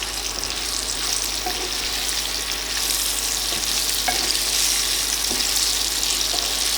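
Fried potatoes and bitter gourd being stirred together in a pan for shukto, a steady broadband sizzle with soft scraping strokes of a spoon running throughout, fairly close and unbroken, with no voices.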